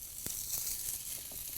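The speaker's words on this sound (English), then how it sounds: "cooking ground meat, it's a little bit challenging always because we don't want it to stick together" Ground meat fries in a pan for taco salad wraps, giving a soft, continuous sizzle and hiss with a few faint scrapes, fairly quiet and close.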